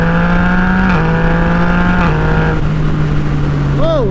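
A tuned 2017 Yamaha FZ-09/MT-09 with its baffle in pulls hard through quick-shifted gears, the loud engine tone dropping sharply at each shift. Wind noise rushes over it, and a voice briefly cuts in near the end.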